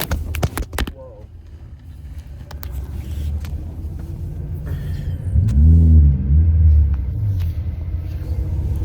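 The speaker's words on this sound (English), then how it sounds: "oh, you should see the traffic, you guys." Road traffic with a car accelerating, a low rumbling engine that builds and surges loudest midway, passing nearby after a few sharp knocks at the start.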